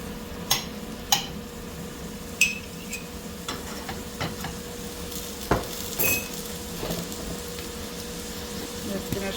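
Ground turkey browning in a pan with granulated beef bouillon added, giving a steady low sizzle under sharp scraping and clacking bursts of a utensil against the pan.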